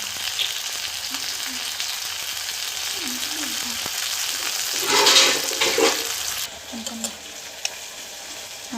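Vegetables sautéing in a little oil in a pan for tomato soup, a steady soft sizzle running throughout with a brief louder burst of stirring or splashing midway, no talk.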